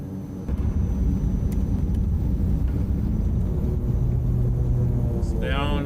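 An ATR72-600 airliner rolls down the runway after touchdown, a steady, loud cabin rumble filling the whole stretch, with a brief chirp near the end and no speech.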